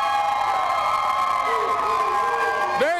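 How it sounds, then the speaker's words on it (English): A rambunctious basketball crowd at the Siegel Center on a Final Four night keeps up a loud, continuous roar of cheering, with shouts and whoops mixed in. "We got a quickly growing crowd."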